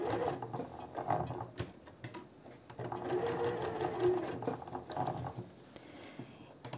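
A sewing machine stitches the sleeve of a jacket in short bursts of rapid, rattling needle clatter with brief pauses between runs, heard close up and without talking.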